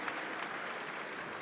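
Esports crowd at a Rainbow Six grand final in Munich applauding and cheering after a round win, a steady dense wash of clapping that holds evenly throughout.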